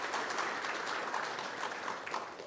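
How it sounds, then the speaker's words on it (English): A school board meeting audience applauds student web design state runner-up winners, a dense, steady wash of many hands clapping at moderate distance for a few seconds without talk. "Let's give those students a round of applause as well."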